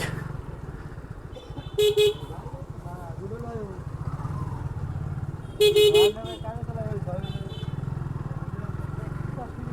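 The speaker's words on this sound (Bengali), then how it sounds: "অনেক অটো অনেক বাইক" Road traffic jam with auto-rickshaws and motorbikes rumbles steadily, a motorbike engine close by, two bursts of horn honking, and voices talking over the din.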